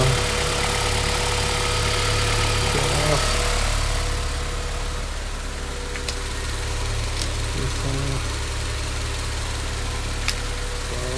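A Honda Civic Type R engine idles steadily and loudly nearby, a constant low rumble with faint clicks and taps over it.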